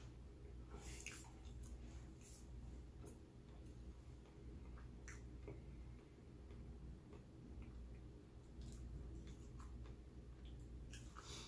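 Close, wet chewing of Raising Cane's food during a mukbang, with soft smacking clicks repeating irregularly over a steady low room hum and no talking.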